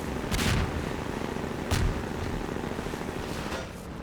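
Rocket launches and blasts in the video game Half-Life 2, with a helicopter fight in progress: two loud booming bursts near the start and middle, a fainter third near the end, all over a steady droning rumble.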